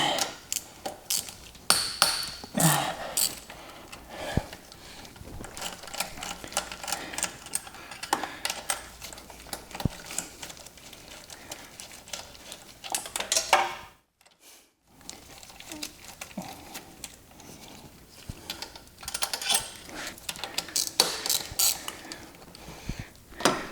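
Wrench work loosening upper intake manifold nuts on a Mazda RX-7 FD with a 13B rotary engine, heard as close, repeated ratcheting clicks and metallic taps with a brief silent gap midway.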